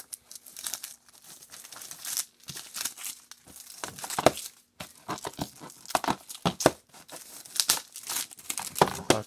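Crinkly tearing and crumpling of packaging while a LEGO Marvel Super Heroes 2 game for PS4 is unboxed, in close, irregular bursts with short pauses and no talking.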